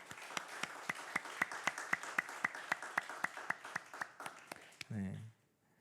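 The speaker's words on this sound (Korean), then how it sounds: "우리 주님께 감사와 찬양의 영광을 다시 한번 우리 박수로 올려드립시다" A church congregation at a Christmas morning service claps in unison. The soft, evenly spaced claps come in a steady rhythm for about five seconds, and a brief voice follows at the end.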